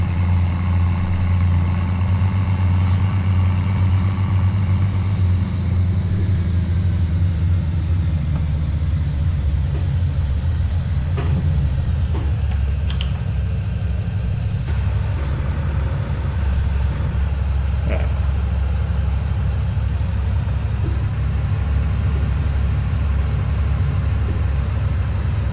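Tractor engine in Farming Simulator 17 on the Gold Cress Valley map, a continuous low droning rumble that holds steady, loud and close, with faint clicks and knocks on top and no talk.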